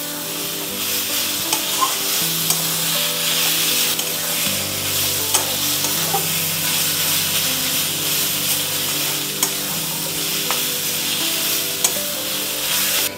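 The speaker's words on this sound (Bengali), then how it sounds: "এইবার এটাকে নাড়াচাড়া করব।" Fig curry being stirred in a pan with garam masala powder, a continuous close sizzle with scraping stirs and occasional sharp clinks of the spoon against the pan.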